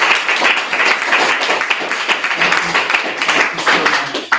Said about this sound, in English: Round of applause for Holly